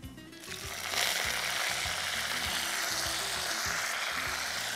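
Cumin seeds and curry leaves crackle and sizzle in hot oil for a South Indian tempering, a steady dense frying hiss with a low rhythmic stirring or scraping pulse underneath, close and continuous throughout.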